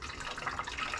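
Liquid poured over meat during a Super Bowl cook, a soft continuous trickling splash heard close and faint for about a second, with no talk.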